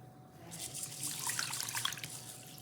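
Water runs into a kitchen sink while something is rinsed under it, a soft splashing stream with rising and falling surges, fairly close and without any voices.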